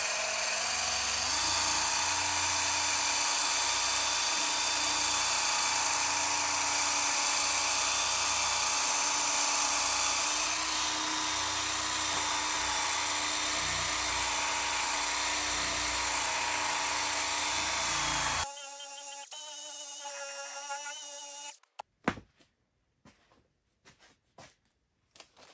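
A Milwaukee polisher on its lowest speed runs a wool pad over wet-sanded custom paint, a loud, steady whine lasting most of the clip before it cuts off, followed by a few scattered clicks and knocks.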